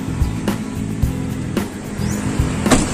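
A ten-wheeler truck rolls along a road in the Philippines, its engine droning low and steady from inside the cab, broken by periodic thumps and rattles and a brief squeak near the end.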